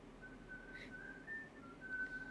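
A person whistling faintly at a distance, a thin wavering tone held through several short phrases over quiet room noise.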